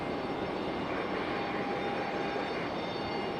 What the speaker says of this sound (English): American A321 touching down